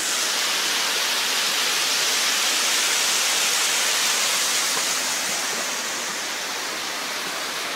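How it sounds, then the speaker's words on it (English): A creek flows beneath a railroad trestle in autumn, a steady broadband rush of water that stays constant and fairly loud with no voices. "What a lovely creek."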